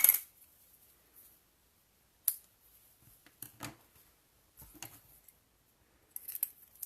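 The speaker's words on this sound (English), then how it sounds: "I'm just going to snip that." Scissors snipping baker's twine for a folded paper basket craft, a few quiet, crisp close-up cuts and clicks scattered through near silence.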